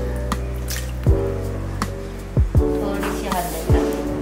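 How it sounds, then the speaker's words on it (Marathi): Water is poured into a pan to be brought to a boil in a home kitchen, with a few splashing drips and soft knocks over a low steady background and faint voices. "आज आता मी याच्यात पाणी घेतले आणि त्याला थोडंसं बॉईल करते"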